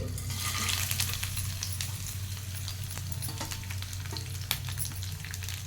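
Lemon rice (pulihora) ingredients being stirred in a hot pan, giving a steady close sizzle broken by frequent scraping and clicking spoon strokes.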